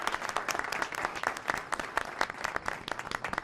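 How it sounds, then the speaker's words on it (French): A crowd breaks into applause, a lively cluster of hands clapping with distinct individual claps standing out in an uneven rhythm at moderate loudness, with no talk over it. "veuillez leur faire un tonnerre d'applaudissements"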